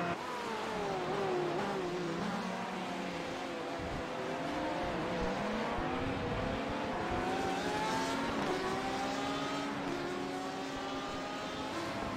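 Race cars driving past on the Spa-Francorchamps circuit in iRacing, engines droning and shifting pitch in overlapping harmonic sweeps, loud and steady throughout with no talk.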